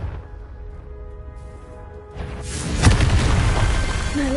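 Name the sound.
Confringo spell explosion in video game Hogwarts Legacy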